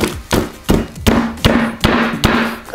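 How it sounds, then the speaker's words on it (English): A hammer strikes a lollipop laid on a hard surface, seven sharp close thuds at a steady pace, each with a short cracking ring. "take your hammer and just hit it till it breaks"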